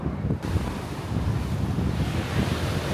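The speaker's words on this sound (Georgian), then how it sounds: "აგრესიული ტალღებია" Rough sea waves crash against the Greek coast in a continuous roaring surge, heavy wind buffeting the microphone throughout.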